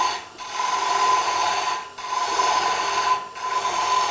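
Bowl gouge roughing out a wooden bowl on a lathe, giving a steady raspy cutting sound in three sustained passes separated by short pauses, close and moderately loud, with no talking.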